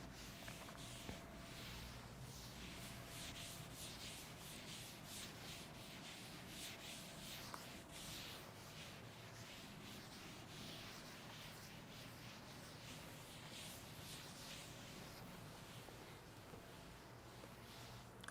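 Writing being rubbed off a classroom board, a faint, continuous series of soft scrubbing strokes close by, with no speech over it.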